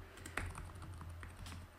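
Quick typing on a computer keyboard while writing code, a close, quiet run of light key clicks in an irregular rhythm, alone.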